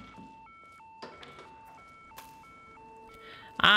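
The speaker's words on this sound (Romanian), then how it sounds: "Mă enervează alarma" An alarm in the Hitman video game, a steady repeating two-tone electronic beep cycling under game sounds, with a few short clicks and a louder burst at the end.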